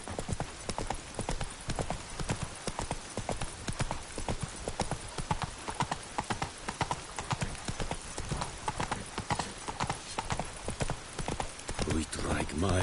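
A horse gallops in The Witcher III, its hoofbeats pounding in a fast, steady rhythm throughout, close and prominent, with a brief snort or whinny near the end.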